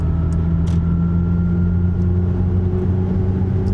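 A Mercedes EQE electric car accelerating in sport mode on an autobahn, its synthetic drive sound a steady, droning hum with a low tone holding evenly throughout, with faint ticks over the constant road rumble.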